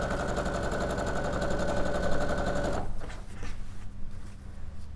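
A domestic sewing machine runs fast and steady, stitching long strips of quilt fabric, a loud close whir that stops abruptly partway through, leaving quieter handling noises.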